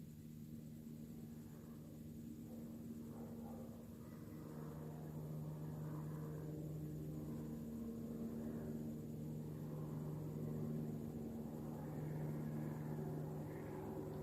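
Propeller aircraft circle overhead while heard from inside a parked vehicle, a steady distant drone and low rumble that holds for the whole stretch with no talking.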